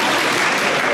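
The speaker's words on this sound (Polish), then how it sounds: "Wielkie brawa." Applause from a talent-show audience for a young performer, a dense continuous clatter of many hands clapping close and loud, without pause.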